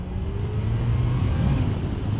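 A Kawasaki H2 SX SE motorcycle pulls away smoothly from a stop, a steady low engine drone rising gently with throttle, close and moderately loud with road noise.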